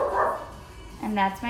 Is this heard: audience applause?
no